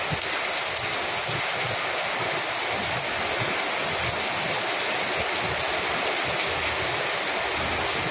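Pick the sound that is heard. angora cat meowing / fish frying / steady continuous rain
steady continuous rain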